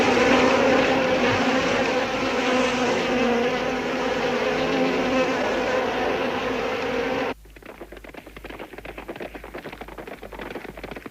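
A steady mosquito buzz drones for about seven seconds in an animated cartoon, then cuts off abruptly, leaving quieter crackling background noise.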